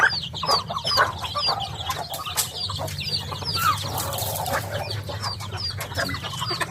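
Caged chickens on a backyard farm cluck and call repeatedly, several birds near and at varied pitch, with a faint crow and a low steady hum beneath, no talking.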